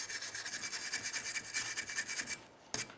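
Steady back-and-forth scrubbing rasps up close as corrosion is cleaned off a Ford F-150 ignition control module mount, a rhythmic gritty rubbing that stops near the end with one last scrape.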